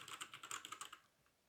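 Quick burst of typing on a Havit 60% mechanical keyboard, about a dozen crisp clicky keystrokes in rapid rhythm, close and fairly quiet, then stopping.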